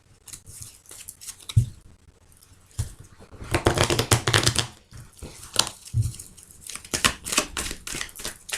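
Amethyst Love oracle card deck being cut and shuffled by hand, with bursts of crisp riffling and rustling card noise in several close, loud flurries separated by short pauses.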